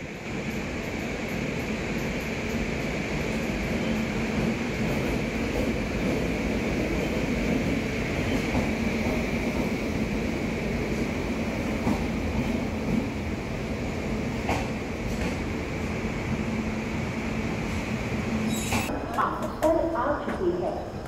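Secunderabad Duronto Express pulling into Rani Kamlapati railway station, heard from on board as a steady rumbling rolling drone with a constant tonal hum, a few clanks near the end, and voices talking over it.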